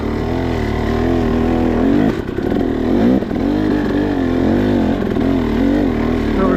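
A 2023 KTM 300XC two-stroke dirt bike climbs a hill slowly in second gear, its engine a loud, close, steady low drone with wavering pitch as the throttle rises and falls.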